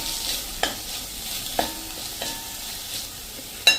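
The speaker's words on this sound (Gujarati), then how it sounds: "હવે આપણું કાંદો પણ જો આ રીતે 1 મિનિટ સાંતળી લેશું" Onion and grated carrot sauté in a pan, a steady soft sizzle broken by several sharp clacks of a spoon stirring against the pan, with no talk.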